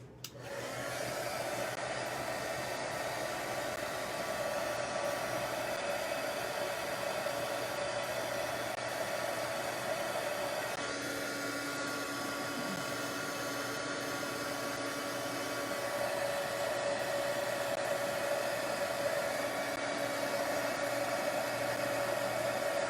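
Heat embossing tool blowing hot air onto a stamped foam card, a steady close whirring hiss with a faint motor hum that runs unbroken for over twenty seconds, with no talk.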